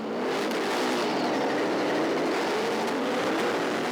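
An S5000 open-wheel race car at the Sandown race start, its engine roaring loud and continuous as the wheels spin, a dense unbroken drone close to the microphone.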